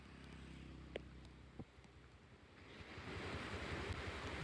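Fast floodwater rushing near Patuli bridge during heavy monsoon rain in Khed taluka, a steady broad roar that swells louder in the second half, with no voices.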